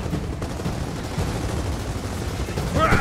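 Dense, continuous combat din of rockets and gunfire in the Gears of War 4 campaign, loud and unbroken for about three seconds and swelling slightly toward the end.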